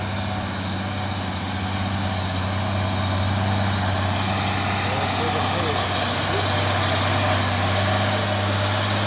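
A palm oil truck's engine runs steadily close by with a deep, continuous low rumble that holds even and unbroken throughout.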